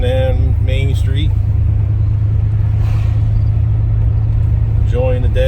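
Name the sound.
1978 Plymouth Volare driving down Main Street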